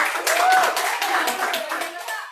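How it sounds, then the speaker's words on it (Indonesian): Brief clapping from a small group, with a voice speaking over it. "Beri tepuk tangan buat apa kita."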